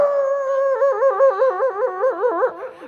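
A man imitates a big, heavy dog with a wavering, howl-like vocal sound, one continuous warbling cry lasting a few seconds, loud and close.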